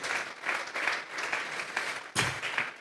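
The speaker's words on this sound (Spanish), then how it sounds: "Vamos a regalarle una ofrenda de palmas al Dios de la gloria." A church congregation clapping during a sermon, offering praise: a rolling, moderately quiet wash of many hands with gentle swells in volume, and a sharper burst near the end.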